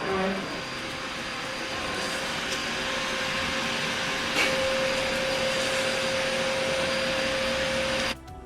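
A sewing machine stitching around a small felt superhero puppet runs as a steady, loud motor whir, nearly unbroken for about eight seconds before cutting off.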